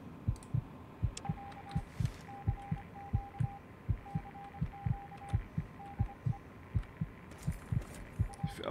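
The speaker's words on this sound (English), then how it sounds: "I know enough about Morse code to know that that's not SOS, but I don't know what it says." A Morse code radio signal in Fallout 3 sends short bursts of steady beeping tone in irregular dot-and-dash groups, sitting faintly over a regular, loud, low thumping pulse like a heartbeat that runs throughout.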